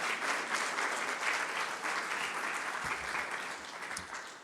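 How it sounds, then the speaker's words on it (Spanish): A church congregation applauding as an offering of praise during a sermon, dense steady clapping from many hands filling the room, continuous for several seconds with no talking over it. "Dele una ofrenda de palmas al Señor nuestro Dios."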